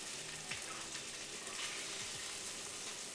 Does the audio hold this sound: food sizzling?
yes